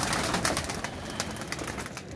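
Soft pigeon cooing and bird calls over a steady outdoor background, with a few faint flutters.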